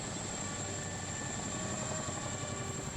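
Military helicopter in flight with US Marine Corps aviation, a steady whirring rotor and engine drone at moderate distance, continuous and fairly faint with no speech.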